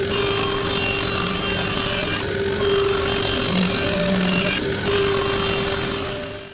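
A bandsaw rips through maple wood in a workshop, a steady loud whine with a sustained motor hum and continuous cutting noise that holds at even level throughout, with no voices.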